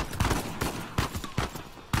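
Video game gunfire in Uncharted 4: A Thief's End: a handful of sharp, loud shots and short bursts crack at irregular intervals over a dense, noisy battle backdrop.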